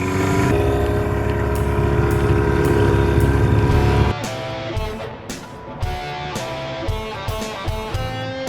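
A small engine warms up on choke after a cold start, running at a loud, steady, fast idle for about four seconds before settling into a lower, uneven rumble with a few irregular pops and surges.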